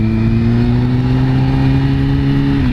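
A motorcycle engine accelerates steadily through the gears while merging onto a freeway, a loud, close, continuous drone that holds one rising pitch before a brief dip near the end, heard from the rider's position with no talking.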